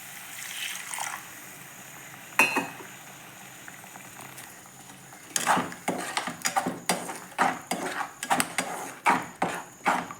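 Water bubbles and splashes in a pan of paneer butter masala, starting quietly with a few knocks, then a run of rhythmic sputtering pops and gurgles toward the end.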